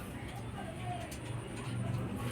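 Soft, low racing pigeon cooing rolls beneath steady background noise and a nearby voice.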